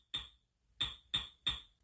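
Door-closing sample pitched down and shortened for a music track: four short percussive thuds, one alone then three in quick succession, each a sharp attack with a brief decay, quiet and clean.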